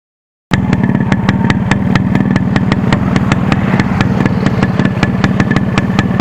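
A restored 1989 Yamaha RX100 motorcycle engine starts and settles into a steady, loud idle with a rapid, even putter close to the microphone.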